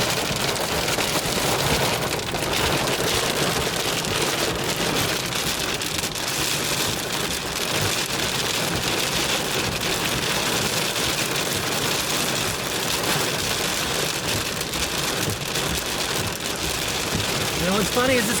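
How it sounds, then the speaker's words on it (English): Heavy thunderstorm rain pounds steadily on a car during storm chasing, a dense unbroken roar of drops on metal and glass lasting the whole stretch, loud and close with no pauses. "Heavy rains now."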